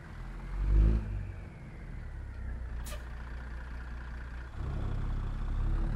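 A Kenworth 100-year edition truck in American Truck Simulator rumbles with a deep engine, a heavier surge early on, a sharp hiss of air, then the engine note rises again.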